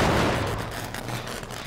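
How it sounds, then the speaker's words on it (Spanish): Failed generator repair explosion in the Dead by Daylight video game, a sudden loud crackling burst at the start that fades into a sputtering, noisy tail. "Siempre que hay una explosión, como que el generador avisa al asesino que yo estoy aquí"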